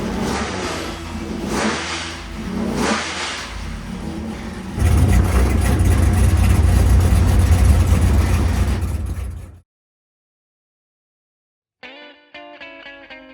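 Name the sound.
rebuilt car engine idling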